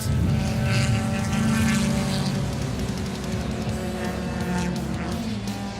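Racing cars roar past at Kyalami circuit, a loud, sustained engine drone that is strongest at the start and eases slightly as the cars pass.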